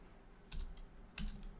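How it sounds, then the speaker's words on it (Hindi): Two short clusters of soft computer keyboard keystrokes, quiet and close, separated by a brief pause over faint room noise. "वो हम यहाँ पे टाइप कर देते हैं।"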